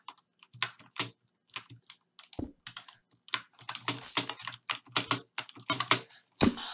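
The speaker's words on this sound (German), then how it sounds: "wenn man die Tastatur so richtig laut knallen hört." Fast, loud clacking of a computer keyboard close up during Minecraft play, keys struck in rapid bursts with brief pauses and a few heavier thumps.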